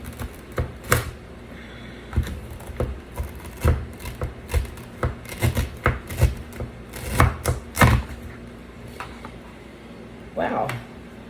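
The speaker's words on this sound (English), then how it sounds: "So we are going to cut off 2 chunks of ginger." A knife chops through chunks of ginger on a board in a rapid, irregular series of sharp knocks, close by, with a person talking over some of the cuts.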